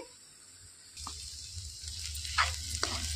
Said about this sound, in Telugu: ముందు పచ్చిమిర్చి, ఉల్లిపాయ పచ్చివాసన పోయే వరకు నూనెలో వేయించుకుంటే సరిపోయిద్దండి